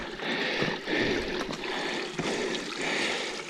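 A small mountain stream trickles and splashes along a hiking trail over the Outeniqua mountains, a close, continuous rushing babble with gentle swells in level and no voices.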